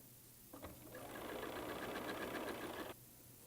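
A sewing machine stitches quilt seams at a 1/4 inch seam allowance, a steady close whirring run of about two and a half seconds that starts and stops abruptly, with no talking.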